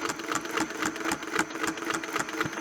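A sewing machine stitches a curve against a Westalee Spin-e-Fex ruler using a slightly shortened stitch length, its motor whirring steadily with rapid, evenly repeating needle pulses close up, heard alone.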